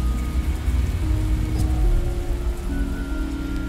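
Rain pours down in a video game, a continuous close hiss of drops over a low humming background tone, steady throughout with no voices.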